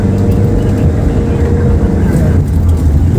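A 2017 Honda Civic accelerates to overtake on the road, its engine and road noise a steady loud rumble from inside the cabin, with people talking over it.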